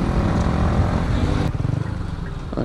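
A motorcycle with a modified exhaust growls loudly nearby with a throaty, rumbling note, then settles into a rapid pulsing burble as it shifts pace.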